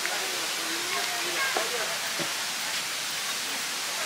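Rushing waterfall at Cascadas de Meco, a steady broadband roar heard continuously in the background, with faint voices underneath.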